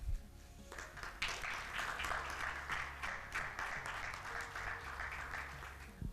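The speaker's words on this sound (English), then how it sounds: "a round of applause for Mrs. Catherine Baker" An audience applauds to welcome two guest speakers, the Economic Officer of the United States in Kuwait and a colleague, with steady, moderately loud clapping throughout and a low background hum underneath.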